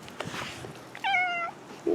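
A pet indoor cat meows for attention: one clear, drawn-out meow rises and falls up close, followed by the start of a second call, over quiet room rustling.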